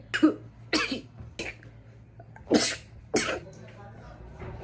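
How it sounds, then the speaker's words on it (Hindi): A woman coughs and sneezes from dust while cleaning ceiling fans, giving several sharp, close bursts of about five or six irregularly spaced fits over a quiet background. "धूल मिट्टी से छींक आने लगती है।"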